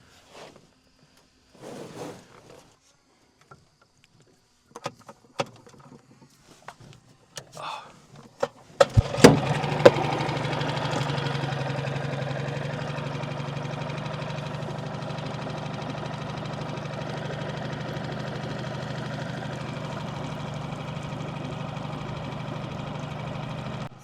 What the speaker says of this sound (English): Or if it does, see if the engine starts.